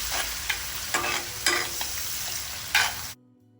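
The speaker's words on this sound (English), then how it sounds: "In the same oil, add in chopped onions. If you have shallots, that's better, and some curry leaves, and fry till the raw smell of the onion goes." Close, crackling sizzle of chopped onions and curry leaves frying in oil for a Mangalore fish masala, with periodic stirring scrapes before the sound cuts off abruptly.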